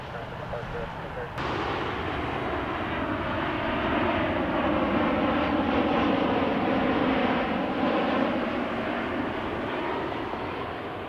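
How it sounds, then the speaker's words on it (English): Southwest Boeing 737 MAX 8 airliner, two years old, arriving from Atlanta on approach to land in high winds, its engine roar steady and loud after a sudden onset, broad and continuous throughout with wind noise. "Coming in from Atlanta, we have Southwest 594, 737 MAX 8, 2 years old."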